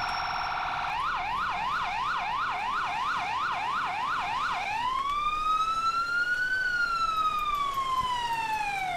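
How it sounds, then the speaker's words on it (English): Emergency vehicle siren in the EmergeNYC game on a gray city street, a rapid wailing yelp that shifts into a slower rising and falling wail, loud and continuous. "People do not respond to the sirens."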